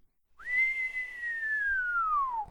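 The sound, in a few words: a man whistling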